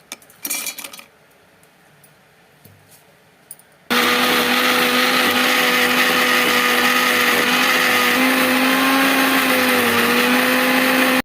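A mixer grinder jar with garlic, ginger, cumin and cashews gives a few faint clinks, then the motor starts loudly and runs in a steady, high whirring grind to the end.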